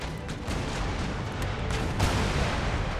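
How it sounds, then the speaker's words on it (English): Naval cannon broadsides thunder in Empire: Total War, a dense continuous rumble of heavy gunfire and booms between sailing warships, loud and overlapping with a sharper blast near the end. "Taking severe hull damage from these broadsides."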